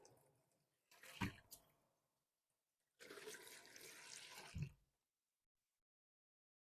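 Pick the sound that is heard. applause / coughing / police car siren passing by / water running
water running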